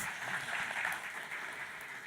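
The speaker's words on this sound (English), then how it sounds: "thank you very much for the speakers, you can give them an applause" Faint, dense audience applause for the speakers at a startup accelerator event, a steady wash of distant clapping throughout a short stretch.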